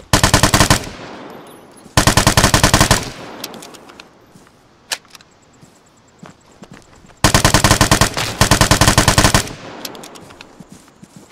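Rapid automatic fire from an L85A1 rifle in the video game Vigor, with loud, close bursts lasting one to two seconds separated by quieter stretches of scattered distant shots and small clicks.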